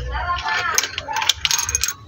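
A key jingles and clinks as it is handled at the ignition of a second-hand Honda TMX125 Alpha motorcycle, with bright metallic taps at close range.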